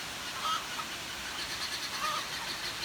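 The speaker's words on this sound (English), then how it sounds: "And my birds are freaking out." Farm fowl such as chickens cluck and call faintly at a distance in steady heavy rain, their brief calls rising only slightly above the constant broadband hiss of the downpour.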